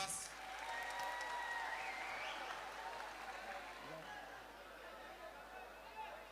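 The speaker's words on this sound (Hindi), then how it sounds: "आप फौरन तालियां बजा दिया कीजिए बस।" Crowd applause rings out at a mushaira poetry gathering, a dense wash of clapping that gradually softens, with murmuring and chatter mixed in the hall.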